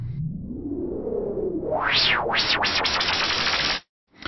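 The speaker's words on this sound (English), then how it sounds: "So now we've got a really dynamic white noise filter sweep" Broadband white noise sweeps upward through a filter in Logic, then swoops up and down faster and faster in repeated filtered arcs before cutting off abruptly.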